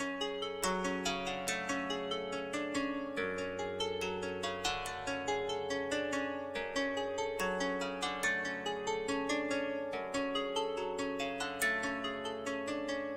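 A dense, layered ethnic melody played on the Ethnoworld 6 virtual instrument in an FL Studio 20 drill beat, with steady plucked notes over sustained low tones, loud and continuous with no talking.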